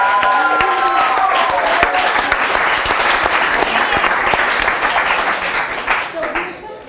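At a fireside chat event, an audience breaks into sustained, loud applause, a dense wash of many clapping hands, with a voice briefly heard at the start and the clapping tapering off at the end.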